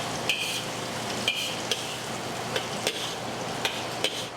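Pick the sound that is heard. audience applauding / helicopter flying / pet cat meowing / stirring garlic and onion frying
stirring garlic and onion frying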